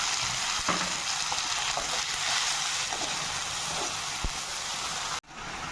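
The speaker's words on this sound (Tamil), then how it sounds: "வெங்காயம் ஓரளவுக்கு வதங்கினவுடன் அரைச்சி வச்ச தக்காளி விடுது ஆட் பண்ணி நல்லா வதக்குங்க" Onion, garlic and tomato paste sautéing in a pan, with a steady close sizzle and a few light stirring clinks, no talk, ending in an abrupt cut.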